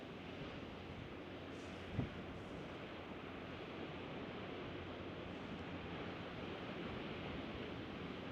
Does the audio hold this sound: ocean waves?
yes